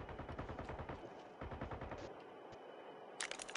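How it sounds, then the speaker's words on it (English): Rapid automatic gunfire rattles in a battle royale video game, bursts of quick repeated shots followed by a few sharper single cracks near the end. "Where are they shooting?"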